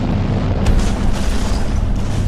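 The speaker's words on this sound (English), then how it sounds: "a powerful explosion shook tranquil Pasadena, California" A powerful explosion sound effect for the 1952 blast in Pasadena, California, heard as a loud, sustained low rumbling boom with a brief burst near the start, alone with no voices.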